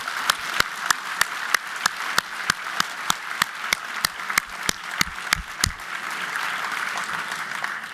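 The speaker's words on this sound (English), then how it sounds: "And I really want to just have a big round of applause for that 40th class." An audience applauds the 40th class of science and technology policy fellows. Dense clapping runs throughout, with sharp, regular louder claps standing out near the front. Near the end it settles into a softer, continuous wash.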